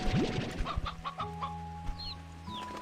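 Chickens in the Slime Rancher video game cluck in a series of short, soft calls over faint, steady background sounds from the game.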